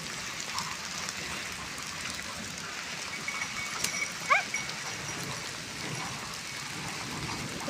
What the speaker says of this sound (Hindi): बहुत तेज़ बारिश आ गई है, मोटे मोटे बूंद गिर रहे हैं